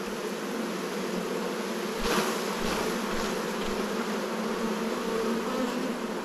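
Honey bees buzzing near a hive during a transfer from a Langstroth to a top bar hive, a continuous close drone with a few louder passes as individual bees fly near.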